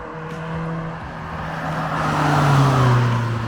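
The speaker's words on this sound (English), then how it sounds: "it's time to get in the car, take this car to the MOT station" An original Fiat Punto project car driving on the road, a steady low engine drone that swells slightly as it accelerates, heard from close by with no talk.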